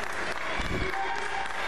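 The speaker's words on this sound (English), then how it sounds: "And the crowd trying to rally behind Liberty State's champion." A crowd at an indoor pro wrestling match applauds steadily throughout, with a commentator's voice running over the clapping.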